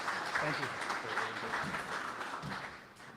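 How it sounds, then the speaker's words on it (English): Audience at an AI developers meetup applauding a speaker, a soft wash of scattered clapping from the room with voices murmuring underneath, fading toward the end. "Let's give Denis a round of applause"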